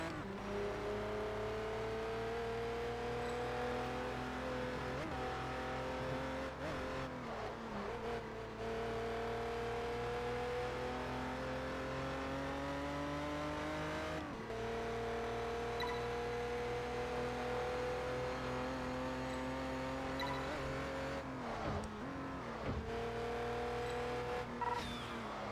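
An Aston Martin V12 Vantage S engine in Test Drive Unlimited 2, revving steadily through rising gears with several brief dips at shifts, continuous and alone.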